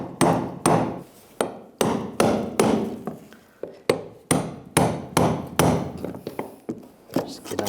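Hammer striking a brass punch against the fuel pump lock ring of a 1999-2006 Chevrolet Silverado 1500, a series of about fifteen sharp metallic taps in a loose, uneven rhythm, close and clear.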